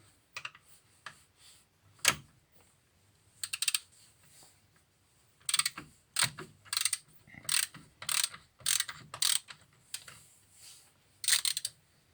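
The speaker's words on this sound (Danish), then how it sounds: "Så sætter en 12 mm bolt, de her holder batteriet." Ratchet wrench loosening a 12 mm battery bolt on a Suzuki Vitara, with faint scattered clicking bursts of rapid ratcheting that grow busier in the second half, close and otherwise quiet.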